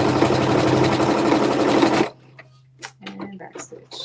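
Sewing machine stitching a pocket flap onto a pocket, a loud steady mechanical whir for about two seconds that stops abruptly, followed by a quieter voice speaking.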